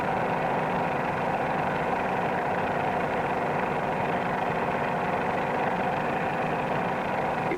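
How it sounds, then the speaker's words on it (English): A light training aircraft's engine drones steadily and laboriously in a nose-high climb, a continuous close, even hum with vibration and no voices. "If we pull the nose up too high, you can hear the engine begin to labor."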